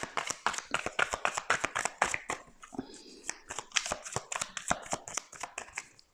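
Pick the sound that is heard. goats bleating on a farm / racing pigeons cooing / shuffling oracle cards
shuffling oracle cards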